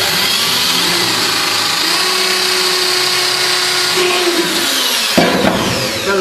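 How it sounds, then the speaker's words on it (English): A power drill whines steadily as it bores into a car's scuttle panel near the edge, a loud close-up motor drone that dips and shifts pitch toward the end. "like we're going to drill in."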